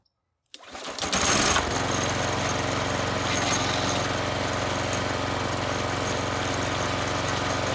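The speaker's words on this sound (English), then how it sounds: "So let's fire the engine up and make sure everything in the transmission works." A yard kart's small engine cranks, catches and settles into a steady, loud buzzing idle that runs on alone without pause.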